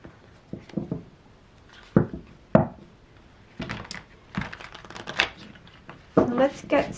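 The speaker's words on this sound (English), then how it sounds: "this month I'm going to be using the Light Seers Tarot by Chris Ann." Light Seers Tarot cards are shuffled close by in quick, soft riffling bursts and slaps, separated by short pauses, quiet overall.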